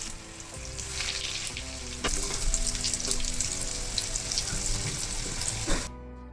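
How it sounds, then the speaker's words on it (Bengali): Batter-coated jackfruit chops deep frying in hot oil, with a loud, dense, crackling sizzle that swells as pieces go in and a few clattering knocks along the way. "এবারে একে একে আমরা সব চপগুলি ভেজে নেব"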